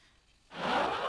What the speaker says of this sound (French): vous avez un petit son d'avion en papier qui décolle